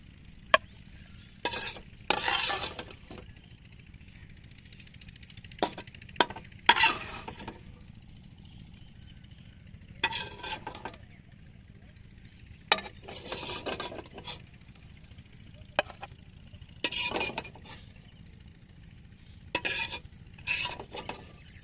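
Chicken being stirred and mixed in a pan, spoon or spatula scraping in repeated bursts of rasping strokes over a low, steady frying sizzle.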